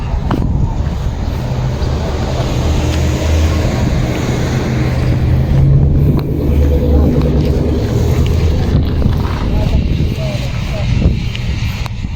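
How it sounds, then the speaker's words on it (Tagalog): Loud, constant wind buffeting the microphone with a deep rumble throughout, at a seaside yacht club in Kuwait, as a voice speaks intermittently underneath. "Sobrang lakas ng hangin dito. Malapit kasi sa dagat."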